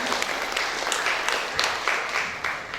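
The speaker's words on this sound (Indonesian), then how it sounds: "Boleh kasih aplaus dulu Bapak Ibu." An audience at a national seminar held at a technology college applauds with steady, dense clapping throughout, fairly close and even in level, with a few louder individual claps standing out.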